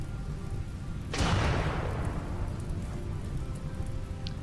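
Steady rain hisses throughout a video game scene, with a brief rushing swell near the start that fades back into the constant downpour; no one speaks.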